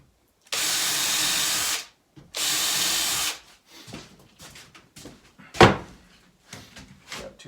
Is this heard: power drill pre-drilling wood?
yes